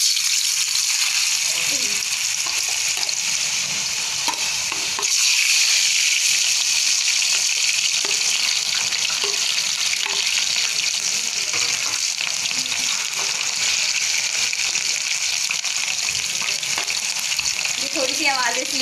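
Homemade potato french fries frying in hot oil, the wet washed potatoes making a loud, steady hiss and crackle that fills the whole stretch without pause, close by and with no voices.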